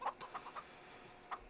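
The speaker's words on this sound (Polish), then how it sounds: "Kury mogą być głodne." Hens in a farmyard in the Farming Simulator 25 video game give short, scattered clucks, fairly faint and spaced irregularly, with no talk over them.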